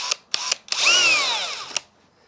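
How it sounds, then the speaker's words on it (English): A power drill boring a secondary pilot hole in plastic for a heated seat wiring job: a few short trigger bursts, then one rising whine lasting about a second before a final blip, close and alone. "now we're going to drill the secondary pilot hole"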